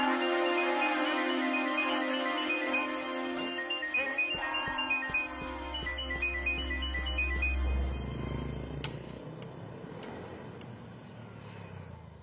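A phone ringtone plays a repeating electronic melody for several seconds, then a low engine rumble takes over and the tones fade under a softer hiss.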